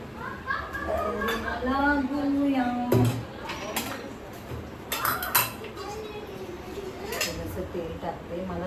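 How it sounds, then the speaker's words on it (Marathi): A large masher works food in a metal pot at home, giving repeated clinks and scraping knocks in an irregular rhythm, close by, with someone talking and children's voices in the background. "आता काय हा मोठा स्मॅशर ह्याच्याने मस्तपैकी स्मॅश होतो"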